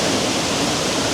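Lower Campsie Falls waterfall roars as a dense, steady rush of falling water, loud and close with no breaks or other sounds.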